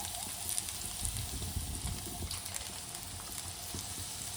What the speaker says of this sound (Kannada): ಈರುಳ್ಳಿ, ಒಣಮೆಣಸಿನ್ಕಾಯಿ ಮತ್ತು ಬೆಳ್ಳುಳ್ಳಿ ಹಾಕ್ಕೊಂಡು ಫ್ರೈ ಮಾಡ್ಕೊಳ್ಳಿ ಸ್ವಲ್ಪ ಹೊತ್ತು